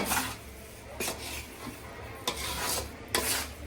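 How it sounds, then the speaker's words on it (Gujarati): Cooked wheat ponk jadariyu is poured and scraped from a pot onto a plate, giving several short, close scraping and clattering bursts spread across the moment. "આને હવે એક થાળીમાં ઢાળી લેવાનું"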